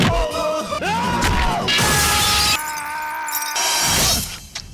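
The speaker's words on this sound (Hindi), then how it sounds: "गुस्से में सामान ही तो तोड़ रहा है" Objects being smashed and broken in anger, with a run of loud shattering crashes and glass-like breakage that rise and cut off in abrupt bursts, close by and filling the whole stretch.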